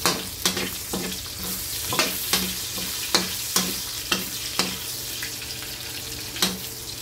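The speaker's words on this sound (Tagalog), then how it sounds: "Magigisa na po tayo. Inuna ko po yung luya." Ginger sautéing in oil in a pan, a steady close sizzle broken by regular clacking stirs of the utensil, several sharp knocks across the stretch, no talk.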